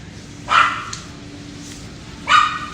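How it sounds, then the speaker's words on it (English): A small dog riding in a carry-on backpack at Dallas Fort Worth International Airport gives two short, sharp barks about two seconds apart, fairly close, over a low hum of terminal background noise. "that dog's in that carry-on, on that backpack of that woman"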